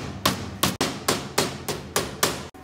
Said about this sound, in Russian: Всегда нужно отбивать от себя